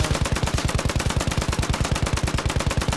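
A 200-round machine gun fires in a video game: one loud, continuous stream of evenly spaced rapid shots that lasts the full three seconds, with no pauses.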